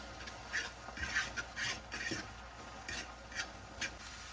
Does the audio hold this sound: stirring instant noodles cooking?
yes